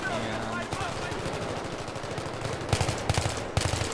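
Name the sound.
gunfire from Battlefield 3 (video game)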